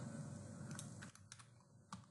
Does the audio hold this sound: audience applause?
no